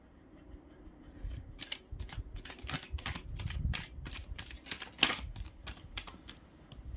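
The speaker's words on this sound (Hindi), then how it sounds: "अब मैं एक बार शफल करूंगी, जितने कार्ड्स गिरेंगे आई विल टेल यू" A deck of tarot cards being shuffled, producing a rapid rhythmic series of crisp riffling flicks, close and fairly quiet, with no talking.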